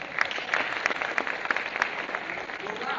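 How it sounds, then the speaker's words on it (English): Audience at an Akron mayoral debate clapping for themselves, a continuous round of applause with scattered louder individual claps over about three seconds. "Now, let's give yourself a round of applause for being here."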